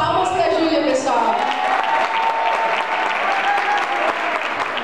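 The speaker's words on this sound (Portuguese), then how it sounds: "Palmas pra Júlia, pessoal." Audience applause for Júlia, a new band member called up on stage at a young entrepreneurs' seminar: steady dense clapping from a crowd filling the whole stretch, with a voice speaking over it at the start.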